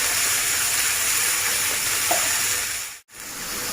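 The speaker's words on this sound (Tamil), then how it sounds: "நல்லா பொரியிற தன்மை மாதிரி வரும்." Beef sizzles in a pan over full heat for a loud, steady, broadband hiss that barely changes, with a brief sudden dropout near the end.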